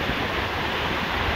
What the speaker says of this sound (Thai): ลมจากไอ้พัดลม